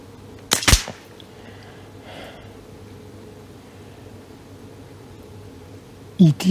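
An Artemis CP2 air pistol fires a single pellet: one sharp, loud crack near the start, then quiet room background and a brief thud near the end.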